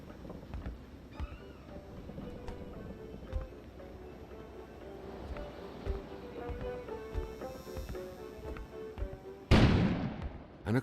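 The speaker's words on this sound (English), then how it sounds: "An explosion suddenly occurred outside." An outdoor explosion in the video game Kona bursts suddenly near the end, a loud sharp blast after quieter ambient music and scattered small sounds.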